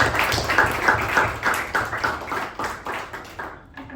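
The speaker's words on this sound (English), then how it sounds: "A good round of applause for Speaker and the evaluator." A small meeting audience claps for a speaker and an evaluator, a close round of individual handclaps in a quick uneven rhythm that thins out and stops near the end.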